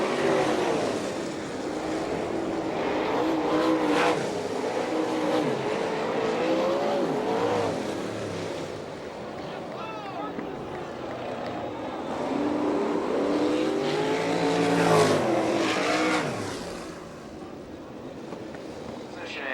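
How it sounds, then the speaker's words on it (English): Sprint cars of the All Star Circuit of Champions coming off turn four to the checkered flag at Fremont, Ohio, a loud continuous engine roar that swells and passes, with an announcer talking over it throughout. "Here they come off turn 4 for the checkered flag"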